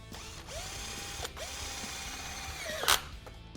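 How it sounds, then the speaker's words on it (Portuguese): Simple cordless screwdriver driving a screw into a metal drywall profile, a close, steady motor whir with rising and falling pitch sweeps, ending in a sharp clicking burst as the clutch slips. "aqui eu vou fazer a fixação, tá? Simples. Parafusadeira simples também, tá?"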